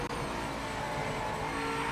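A racing car engine in the video game Project Motor Racing roars steadily and loudly throughout, a sustained high-revving drone with no talk.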